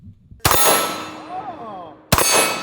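Two sharp AK-74 rifle shots with a metallic ring from a struck steel target, loud and close, each cracking then ringing out, spaced about a second and a half apart.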